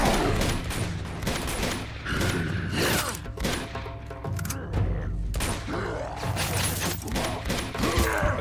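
Sustained rapid gunfire in a chaotic fight against bad guys and yetis, dense bursts of shots layered with mechanical clanks and creaks, steady and loud throughout with no pauses.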